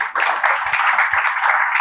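Audience applause at an astronomy and prehistory lecture, a short dense burst of clapping from a hall full of people, close and fairly loud, lasting under two seconds.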